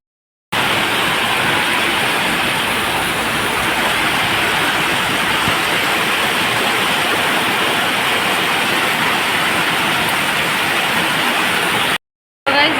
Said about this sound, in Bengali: এখন বৃষ্টি পড়ছে বাইরে, দেখতেই পাচ্ছ বৃষ্টি পড়া শুরু হয়ে গেছে।